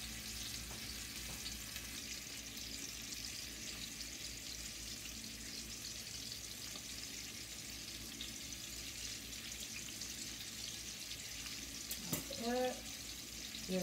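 Skin-on salmon sizzles steadily in a hot pan, a loud continuous frying hiss throughout, with a brief clatter of handling and movement near the end.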